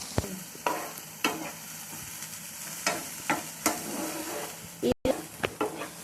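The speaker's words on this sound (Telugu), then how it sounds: "వేసుకున్న వెజిటేబుల్స్ని కొంచెం ఫ్రై చేసుకోవాలి" Beans, carrot, onion and garlic frying in a pan for white sauce pasta, a gentle sizzle broken by regular spatula scrapes and knocks against the pan, close and rhythmic.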